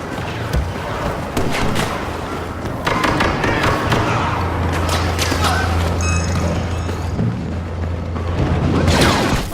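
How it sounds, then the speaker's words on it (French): A flashbang grenade bursting in Star Wars Battlefront multiplayer, among a run of loud booms, thuds and shots, with a high ringing tone after the blast and a sustained low hum, with the game's battle noise all around. "Flashbang, flashbang."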